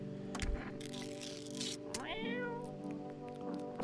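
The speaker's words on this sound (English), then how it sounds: "I have decided that I'm gonna feed the cat again" A cat meows with a rising, wavering call midway through, over a steady low hum and faint background noise.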